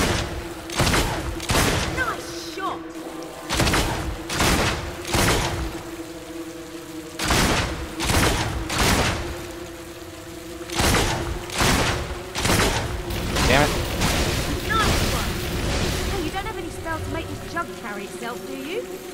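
Gunshots from a gun in Fable 2, a run of sharp, separate bangs spaced roughly a second apart across the whole stretch, loud and close with a faint hum beneath.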